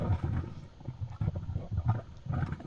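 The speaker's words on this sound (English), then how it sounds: "And that's a geyser. Kind of sounds a little bit like a toilet." A geyser sound effect with low, churning gurgles and rumbling bursts, similar to a flushing toilet, continuous and fairly loud, with no voices.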